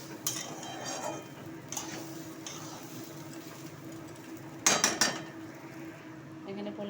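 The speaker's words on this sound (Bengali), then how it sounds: "এবার একটু করে নেড়ে দিচ্ছি।" Rice pulao with jaggery stirred in a pot, soft scraping and clinks of a spoon against metal close by over low background hiss, with a louder burst of stirring midway.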